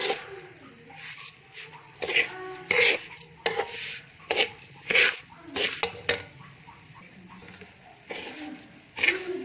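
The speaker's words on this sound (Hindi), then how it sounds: "लेकिन मुसलसल चम्मच हिलाना है, हाथ रुकना नहीं चाहिए। लाइट ब्राउन होने तक इसको मुसलसल भूनना है।" A spoon scrapes and stirs semolina roasting in a pan for halwa, producing repeated rasping strokes in an uneven rhythm, close and fairly quiet.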